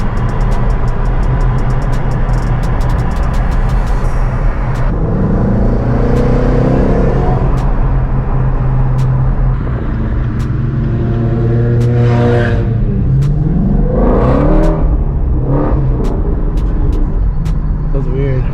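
A Shelby GT500 with a manual gearbox is driven with continuous engine rumble, revs rising and falling through gear shifts, the pitch climbing steadily toward the end, while people talk over it.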